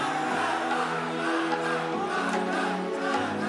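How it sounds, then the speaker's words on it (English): Esports arena crowd at an ESL One Mumbai 2019 Dota grand final, a diffuse murmur of many voices with scattered shouts, moderately distant and steady, no clear commentary over it. "The crowd,"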